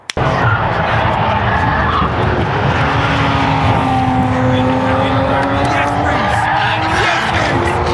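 A BMW M3 Touring's engine roars loud and sustained on a racetrack lap, its pitch rising and falling through gear changes with a whining drone, heard from inside the car.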